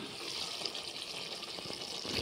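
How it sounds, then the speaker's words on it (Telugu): Water drains from a pot of freshly cooked rice for chicken biryani, a steady rushing and splashing pour that holds at an even, moderate level throughout. "ఇప్పుడు ఇందులో నుంచి వాటర్ తీసేస్తాను నేను."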